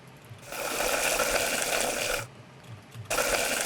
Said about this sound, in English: So I had this water tap sound here.